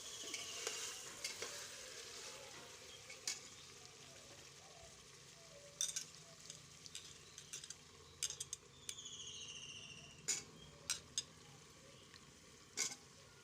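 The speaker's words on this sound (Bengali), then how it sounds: "ঢাকনাটা সরিয়ে এরপরে আর একটু নেড়ে চেড়ে দেব।" Mutton curry being stirred in a pan on the stove, with a soft ongoing sizzle under scattered scraping clicks of a spoon against the pan, faint and close, with no talking.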